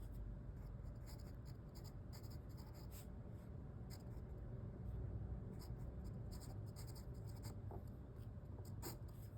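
A pen scratches steadily across a surface while sketching a diagram, producing a continuous dry rubbing texture with short bursts of faster strokes, close and fairly quiet, with no voices.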